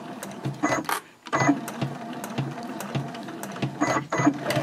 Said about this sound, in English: I want to stop right here at this line, and then I'm going to backstitch.